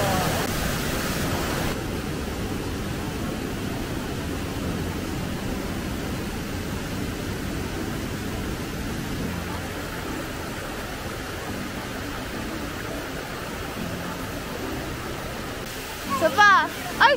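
Waterfall at Maapon Falls in Lucban, Quezon, a steady broad rushing roar filling the whole scene, with people talking briefly near the end.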